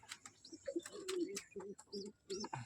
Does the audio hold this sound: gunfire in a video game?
no